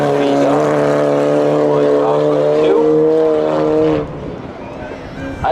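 A 2006 Volkswagen Passat rolls up to the start line at a summer spectator drag race, its engine a loud, steady drone that fades near the end, with a voice speaking over it.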